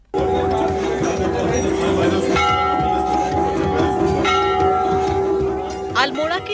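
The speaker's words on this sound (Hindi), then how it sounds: "अल्मोड़ा के चितई गोलू देवता के मंदिर परिसर में लाखों घंटियां और अर्जियां" Bells ring continuously at the Chitai Golu Devta temple complex in Almora, Uttarakhand, hung by the thousands; steady sustained ringing with repeated strikes over a busy background murmur of a crowd.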